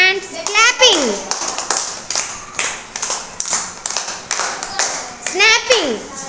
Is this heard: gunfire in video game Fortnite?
no